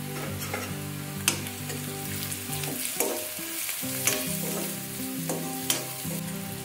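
Chopped onion frying with half a spoon of turmeric in a pan for chana masala usal, a constant close sizzle punctuated by a few distinct spatula scrapes and taps, no speech.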